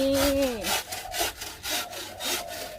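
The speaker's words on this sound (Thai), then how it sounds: "มีลุงเลื่อยกระบอกไม้ไผ่" A hand saw rasps back and forth through a bamboo tube in a steady rhythm of about six strokes, close and loud.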